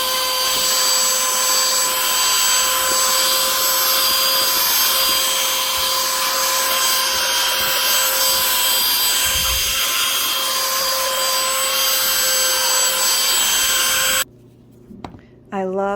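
BISSELL AeroSlim lithium-ion cordless handheld vacuum sucking up breakfast crumbs, a steady high motor whine running loud and close before cutting off abruptly, followed by brief handling sounds and a voice.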